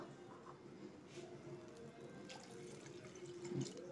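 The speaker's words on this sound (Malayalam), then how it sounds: "ഇതിൽ ആവശ്യത്തിനുള്ള വെള്ളം ചേർക്കുന്നു" Water pours steadily into a cooking pot for a fish-head curry with mango, a continuous close splashing flow with a brief louder gush near the end.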